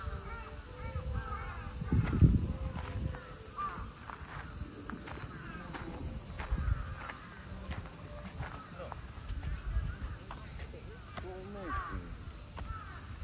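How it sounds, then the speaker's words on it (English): Crows caw repeatedly from a flock of birds in Kanazawa, Japan, scattered calls at middle distance over footsteps and outdoor street noise, with someone talking at times. "look at all of these freaking birds"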